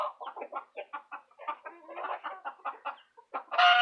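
A free-range flock of chickens, including frizzles, silkies and Easter eggers along with several roosters, clucks in rapid, choppy bursts close by, ending in a louder squawk.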